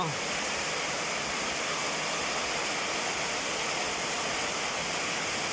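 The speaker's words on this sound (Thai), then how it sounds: "ฝนตกแล้ว" Steady, dense rush of heavy rain pouring down continuously, loud and close, with no pauses.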